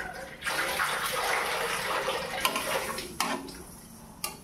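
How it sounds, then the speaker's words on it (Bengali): Water pours steadily into a pot of curry with a continuous splashing hiss, close up, followed by a few sharp clinks of utensils against the pot as the pour ends; no one speaks. "তরকারির ভিতরে আমি দিয়ে দিলাম জল পরিমাণ মতো"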